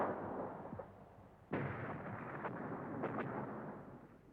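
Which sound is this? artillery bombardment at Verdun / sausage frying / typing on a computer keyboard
artillery bombardment at Verdun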